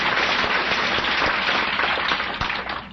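Applause from a convention audience of Alcoholics Anonymous members, a dense, steady wash of many hands clapping that fills the room and fades slightly at the end, with no talking over it.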